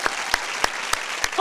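Studio audience applause on a talk show, dense clapping from a crowd with a few sharp, close claps standing out at a steady beat, and a voice briefly heard near the end.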